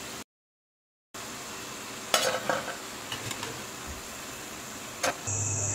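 Soya-greens bonda deep-fry in hot oil with a steady close sizzle, broken by a brief dropout, then a few sharp scraping clatters as the fritters are lifted out.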